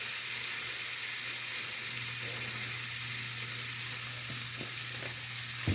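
A hot pan for country-style cube steak gives off a constant low sizzle and hiss with a faint steady hum underneath. A couple of light knocks come near the end, and no one talks.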